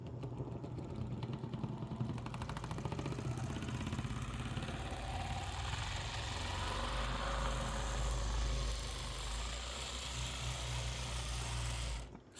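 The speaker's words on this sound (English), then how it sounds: "listen carefully, you can hear the sound of the motor in addition to the steel" A 1967 brass U50 model locomotive motor runs on straight DC power, its steel worms and gears producing a steady, even mechanical whir and hum that holds close and constant for the whole stretch before cutting off at the end.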